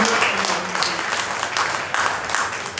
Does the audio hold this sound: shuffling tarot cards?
no